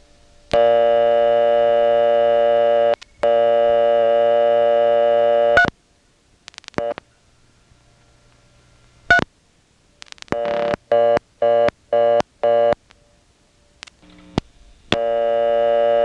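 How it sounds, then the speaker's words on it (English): An independent step-by-step telephone exchange in Nantes, Quebec, still in service in 2001: a steady dial tone, then bursts of rapid dial-pulse clicks as selectors step, followed by an evenly interrupted reorder tone signalling a busied-out level. "I dialed 3 again, and that one went over to the reorder because the level is busied out"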